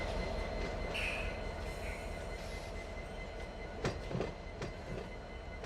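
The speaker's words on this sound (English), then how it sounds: "Now I'm going to connect to these 2 locomotives here." Freight train rolling and coupling up to two locomotives in the Run 8 train simulator game, a steady rail rumble with a few sharp metallic clanks near the end and no talk.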